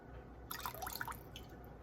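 Coconut water pours from a can into a spiritual bath mixture for about a second, a faint trickling and splashing stream that then stops.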